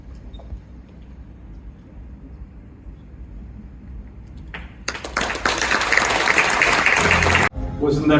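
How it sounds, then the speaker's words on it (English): Audience applause after a poetry reading at a prize awards ceremony, rising suddenly to a loud, dense burst of clapping that follows a stretch of quieter room sound and cuts off abruptly near the end. "Let's have another round of applause for our performance, please."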